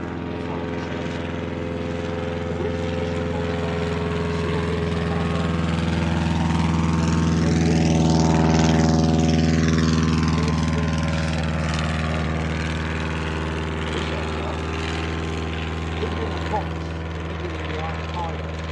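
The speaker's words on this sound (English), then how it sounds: "Hidden in the box behind the pilot is a 100 horsepower Rolls-Royce 200B engine." Vintage aircraft with a 100 horsepower Rolls-Royce 200B engine running, a steady droning engine note with rhythmic propeller harmonics that grows louder as it passes close by mid-clip, then fades, with a voice talking over it.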